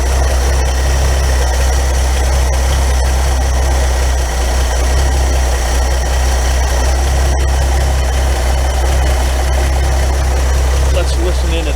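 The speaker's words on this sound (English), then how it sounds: "Sounds a lot better. The engine's going to run much better too." A car engine idles steadily with a deep, constant low rumble and a slight vibrating hum, close by and unbroken throughout.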